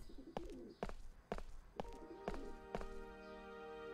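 Pigeons cooing in the video game Crowns and Pawns, about six soft coo pulses in an even rhythm, quiet and close, followed by sustained tonal game sounds.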